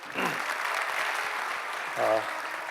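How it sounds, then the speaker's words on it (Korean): An audience applauds at a Korean book-launch talk concert, a soft, steady wash of clapping with a brief voice or cheer rising briefly near the end. "다시 한번 뜨거운 박수 부탁드립니다"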